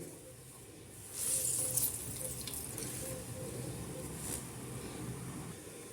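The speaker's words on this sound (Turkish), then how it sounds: "Bakın şöyle sıkarak suyunu çıkarıyorum." Water streams and trickles steadily as fresh curds made from clotted cream are squeezed by hand to press out the liquid. The sound is close and continuous at a moderate, soft level.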